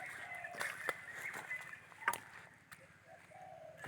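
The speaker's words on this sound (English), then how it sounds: "There's some great bird noise up there." Birdsong rings out in open forest air on a hillside trail around Khao Chee Chan: thin high chirps and a few warbling calls at moderate distance, with a faint steady rumble underneath.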